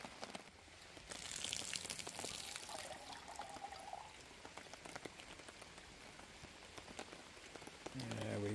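Rain patters on a sagging tarp outdoors, a soft, steady, fairly faint spatter of drops with occasional louder taps, continuing without a break.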